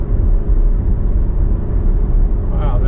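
A 2023 Nissan Armada Platinum's engine holds steady near 2,800 RPM while towing 8,000 lbs up a mountain grade, a loud, continuous low rumble and drone that stays even throughout, with a brief brighter whine near the end.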